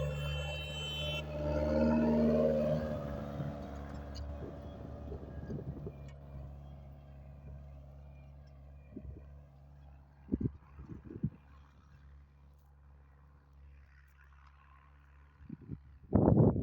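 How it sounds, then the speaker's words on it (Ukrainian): A tractor pulling a Europard 354 cultivator in high second gear during field cultivation gives off a steady low engine drone. It is strongest early, then fades to a quieter hum broken by a few short knocks and clatters. "Спокійно на другій передачі високій, Тракторець справляється."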